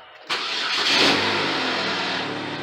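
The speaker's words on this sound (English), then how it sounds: "after I replaced the battery on it, first start" A Chevrolet HHR's engine cranks and fires on its first start after a battery replacement, a sharp catch followed by a brief rev that settles into a steady idle, close up in a shop.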